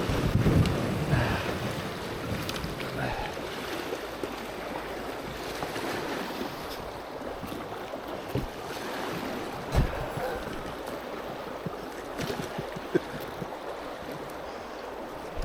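Canoe paddling on the River Wye in October, with water sloshing and splashing against the hull over steady wind buffeting the microphone; brief paddle strokes come through close by at an even pace, with no talking.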